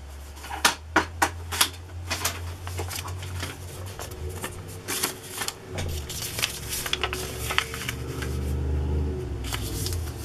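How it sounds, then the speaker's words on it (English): Pages of a blue and silver speakeasy-style craft journal being cut down to about 7 1/4 inches, giving a run of sharp, close cutting snips and paper crackles with low background hum and some handling noise. "So I'll cut these pages down."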